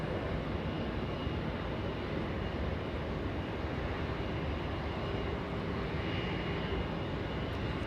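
A big blue Boeing 777 jet airliner at Los Angeles International Airport gives off a steady, broad engine roar that holds level throughout, with no voices over it.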